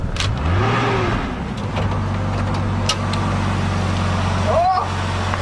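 A used 1993 Japanese drift car with an aftermarket HKS front pipe, stock airbox and intercooler, starting up and idling with a low steady engine rumble, loud and close, with a brief bump in revs near the end.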